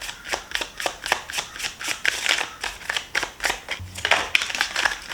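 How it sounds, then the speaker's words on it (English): A deck of cards being shuffled up close, giving a rapid series of crisp riffling bursts in steady rhythm with no talking. "So I have already shuffled a little bit, but one more time won't hurt."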